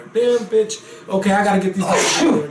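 A single sharp sneeze bursts out near the end of a short stretch of casual conversation, loud and close to the mic, with people talking just before and around it.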